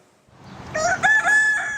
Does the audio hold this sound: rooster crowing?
yes